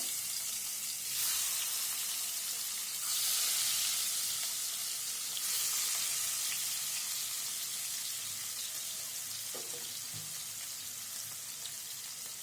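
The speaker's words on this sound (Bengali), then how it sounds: "আমি ফ্রাই প্যানটা আগে তেল গরম করতে দিয়ে দিয়েছিলাম। এখন মাছগুলো ঢেলে দিব" Fish sizzle in hot oil in a frying pan, making a continuous loud hiss that swells as the pieces go in and then settles to a steady crackle, with a light knock near the end.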